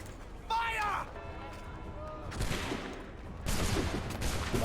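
A musket volley erupts in an Assassin's Creed 3 fight, with a shouted voice first and then two bursts of crackling, overlapping gunfire a second apart amid battle noise.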